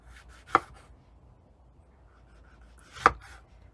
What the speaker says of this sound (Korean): 자, 아까 반 자른 거 다시 잘라 볼게요.